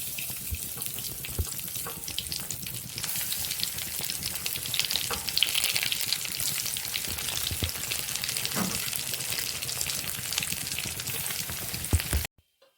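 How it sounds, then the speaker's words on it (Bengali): Vegetable chops deep-fry in hot oil, a dense, loud bubbling sizzle that runs on steadily with small crackles and spatters, then cuts off abruptly at the end. "এগুলোকে এবার আমি ভাজবো, তেলে এক এক করে ছেড়ে দিচ্ছি।"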